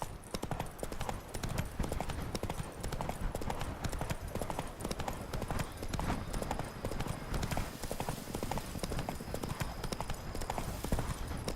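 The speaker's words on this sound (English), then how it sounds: "Come on, Roach" Horse hooves clip-clop steadily in Witcher 3, a continuous rhythmic trot that runs the whole way at moderate loudness, with a faint whinny and some game voices mixed in.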